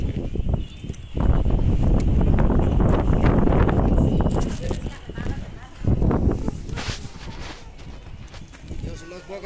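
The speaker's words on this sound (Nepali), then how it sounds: "अहिले चाहिँ अब हावाले चाहिँ सरर हावाले धुलो उडाइरहेको छ" Wind gusting through Marpha village in Mustang, Nepal, roaring in loud broadband bursts with buffeting against the microphone, rising and easing over several seconds.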